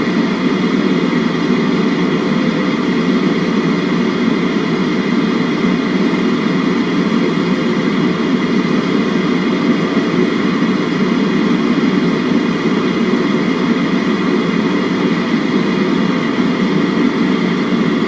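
Aircraft taxiing in Microsoft Flight Simulator X, departing Heathrow: a constant, loud engine drone with a steady low rumble and unchanging hum, continuous throughout with no pauses.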